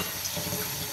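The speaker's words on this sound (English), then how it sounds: "I like to run water over it just to make sure it's strained good." Tap water gushing steadily from a kitchen faucet over strained lasagna noodles in a sink, a loud, continuous close splashing rush with no voices.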